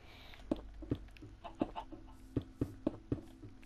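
A chicken clucks in Minecraft, a run of short, evenly spaced clucks at moderate loudness with no one talking.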